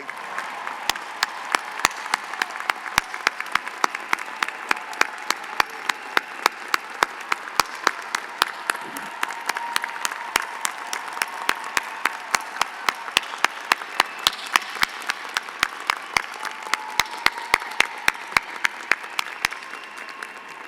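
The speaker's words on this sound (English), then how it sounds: "give a round of applause to the families who supported you, believed in you, and celebrate here with you today" Sustained applause from a commencement crowd honouring the graduates' families, steady dense clapping with sharp individual claps standing out, continuous and fairly loud for about twenty seconds.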